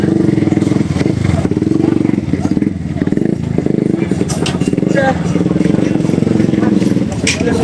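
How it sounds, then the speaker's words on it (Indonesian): A motorcycle engine runs close by near a demolition site in Cikarang, a steady rumbling idle with clattering and scraping mixed in, while a person talks over it. "Ini kita lanjutkan naik motor guys"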